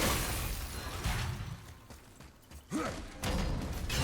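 A puzzle mechanism grinding open in God of War (2018), with a creaking, clunking rumble and a brief rising creak midway before settling into a steady mechanical hum, no talk over it.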